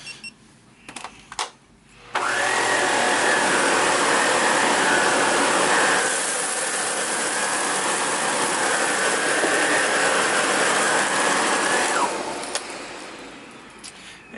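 A German-made SEBO K3 canister vacuum cleaner switches on with a loud, steady whine and airflow roar that holds for about ten seconds before winding down, with a few clicks and handling noises around it.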